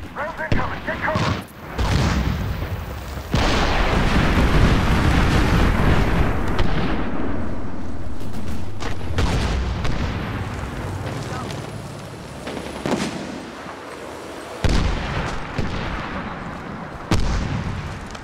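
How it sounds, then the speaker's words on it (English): Incoming artillery strike in a combat video game, heavy booming impacts with a long rumbling roar and further blasts, loud and close, with voices talking over the explosions. "Get down. Rounds incoming. Get cover."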